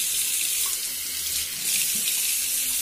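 A tap runs hard and steady while shampoo is rinsed out of something held under the stream, a loud, close, continuous splashing rush with no talk.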